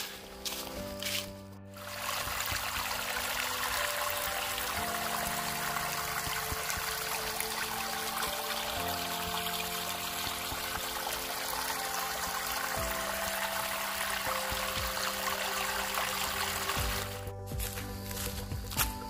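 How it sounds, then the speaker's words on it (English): Continuous rushing water flows steadily in a creek branch for a long stretch, broadband and close, with a faint musical tone underneath. "this is a separate branch of the creek"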